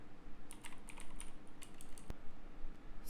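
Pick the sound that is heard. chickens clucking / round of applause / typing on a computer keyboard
typing on a computer keyboard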